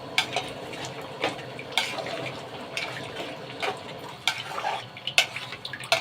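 Meat and taro with salt are stirred in a cooking pot, with repeated scraping strokes and faint simmering liquid underneath, close and moderately quiet.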